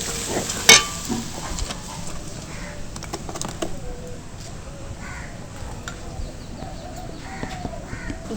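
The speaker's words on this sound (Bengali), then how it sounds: "এবার মশলাটাকে ভালো করে একটু কষে নেব।" Spice paste for a vegetarian aloo biryani being stirred and fried in a pan, a steady soft sizzle with scraping, while crows caw loudly nearby and in the background throughout.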